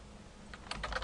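Keys clatter on a computer keyboard in a quick burst of close, crisp taps that begins after a brief quiet moment, with no voices.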